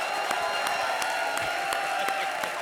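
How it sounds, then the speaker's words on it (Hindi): A studio audience at a televised comedy show applauds, a steady wash of clapping with sharp periodic beats and a faint musical tone underneath throughout. "क्या तालियां बजा रहे हो?"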